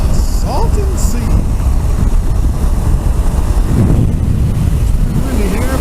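Strong wind buffets the microphone at the shore of the Salton Sea, a constant loud low roar and rumble throughout, with a voice faintly audible beneath the gusts.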